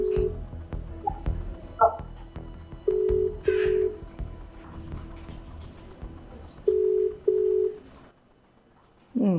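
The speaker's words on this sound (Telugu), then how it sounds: "ఒకసారి వాట్సాప్ కాల్ చేద్దాం అమ్మ, ఒక్క నిమిషం ఆగమ్మా, ఇది రింగ్ అవుతుంది" A WhatsApp call ringing tone sounds as repeated pairs of short electronic beeps, fairly near and clear, with soft talking and room noise between the rings.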